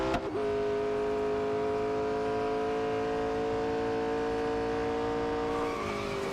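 McLaren 600LT engine in Real Racing 3, a steady loud sustained drone holding one pitch for several seconds before shifting near the end, with a faint squeal of tires sliding.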